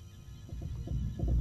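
Heartbeat sounds in a Backrooms video game, low muffled thumps pulsing in a quick rhythm over a steady hum, faint and close.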